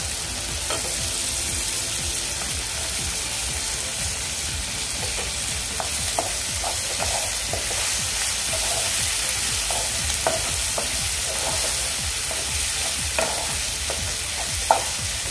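Soaked chana dal frying in a pan with cabbage, a steady close sizzle throughout with light, irregular clicks and scrapes from stirring, no voices.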